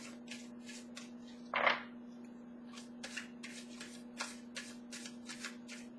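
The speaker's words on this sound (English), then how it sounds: "One more shuffle, and I'll pull from the middle" Soft, rapid riffling and flicking of tarot cards being shuffled repeats in short bursts against a faint steady hum, close and quiet.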